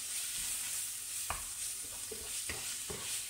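Minced meat fries in a pan with a soft continuous sizzle, and a few utensil knocks and scrapes of stirring sound close by, with no speech.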